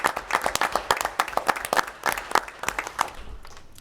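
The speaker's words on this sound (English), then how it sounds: "So I'd like to give Steve a round of applause for his service." Audience applause at a public school board meeting, a crowd clapping in sparse, uneven bursts of individual claps that thin out toward the end, fairly close and without talk.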